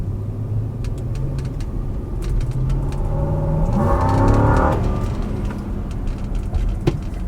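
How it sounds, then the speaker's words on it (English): A 2004 Lexus LX470 V8 engine hums steadily from inside the cabin while driving, with a low rumble that rises briefly as it accelerates and then settles back. "Definitely sounds like a V8."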